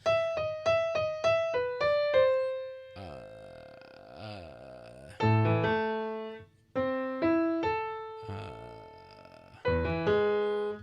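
Piano notes from Für Elise struck in short runs whose pace keeps speeding up and slowing down, with pauses and a few held chords between phrases.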